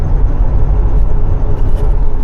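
A 1970 Chevelle Malibu engine drones loudly under throttle on the road, a steady low rumble with wind and road noise throughout.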